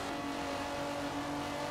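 A classic car engine revving in Forza Horizon 4, a steady sustained droning roar held at constant pitch and loud throughout the short stretch, with no speech.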